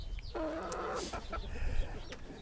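Chickens in a mobile coop give a few short clucks and a drawn-out squawk up close, with faint rustling and farmyard background.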